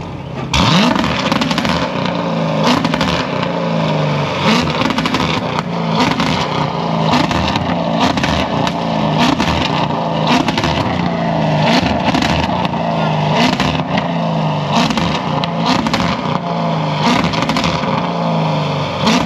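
C7 Corvette engine on two-step launch control, loud rapid stuttering bursts and pops repeating for the whole stretch, close, with voices talking over it at times.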